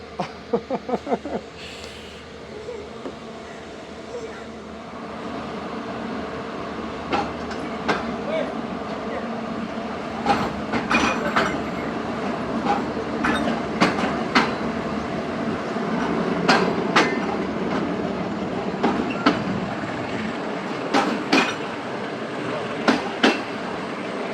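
Musapak shuttle train running between Multan and Dera Ghazi Khan, a steady rolling rumble with repeated clattering wheel-on-rail clicks that thicken toward the end, with voices faintly mixed in.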